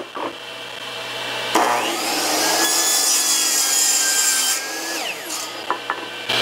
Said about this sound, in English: And we're going to use our chop saw at the same time.